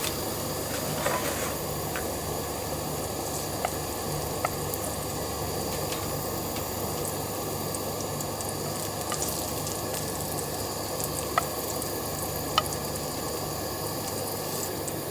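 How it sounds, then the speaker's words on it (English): Jalapenos sizzle and fry steadily on a hot outdoor griddle in 105-degree heat, a continuous close hiss with scattered pops and light crackles, no voices over it. "I'm going to keep those jalapenos cooking for a little bit"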